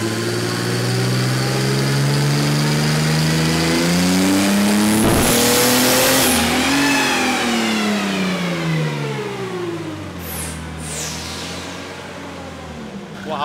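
Supercharged Mercedes OM606 diesel engine fitted with a bigger supercharger pulley, warmed up and revving loudly and close, pitch rising and falling through repeated throttle sweeps with a sharp burst midway.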